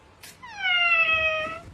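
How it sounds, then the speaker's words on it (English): A cat gives a single clear, drawn-out meow close by against a quiet background. "The kitty."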